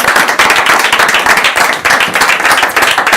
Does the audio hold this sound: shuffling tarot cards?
no